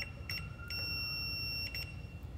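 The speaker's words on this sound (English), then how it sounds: "then the meter beeps." A Fluke multimeter in ohms mode with the alert on sounds its continuity tone as the probes touch, giving a few short high beeps, the last held longer, over a low background hum.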